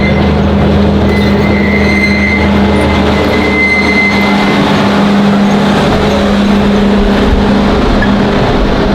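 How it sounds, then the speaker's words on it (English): A diesel locomotive train pulls into a zoo station, its steady low engine drone and rumbling rail noise continuing loudly throughout, with a faint high whine above and no talk. "I see the train is now arriving in the station"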